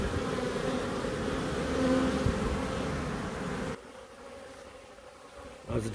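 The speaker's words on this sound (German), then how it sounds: "Jede Menge neue Jungbienen" Young honeybees flying in around the hive, a loud, steady buzzing drone that drops sharply in level partway through and then stays quieter.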